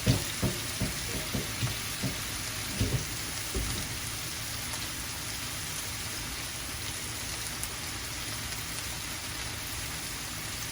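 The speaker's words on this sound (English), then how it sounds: "So now I'm going to go ahead now and wash my cabbage and put him on." Running water pours steadily over cabbage being washed in a kitchen, a broad continuous splashing rush after a series of rhythmic thumps and knocks at the start.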